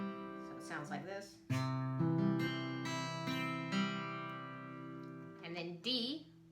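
Acoustic guitar fingerpicked in a steady arpeggio pattern for House of the Rising Sun, notes ringing and overlapping close up, with a brief quieter stretch before the full pattern kicks in and continues without talk.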